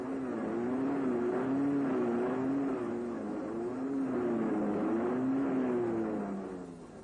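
A Land Rover drives through sand, its engine droning and revving in rising and falling waves as the wheels spin, loud and continuous for several seconds with no speech.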